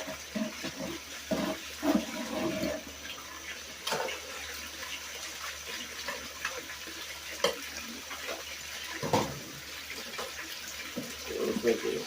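Water rushes and splashes over clay and gravel in a gold pan, a loose burbling wash with sharp sloshes and trickles coming in bursts, fairly faint and close, with some soft voice sounds underneath.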